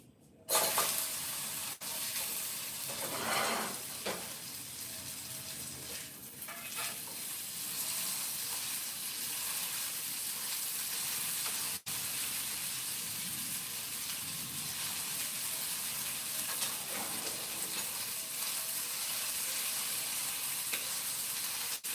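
A shrimp burger fries in hot oil with a constant, bright hiss and occasional spits, sizzling evenly from start to finish with no speech.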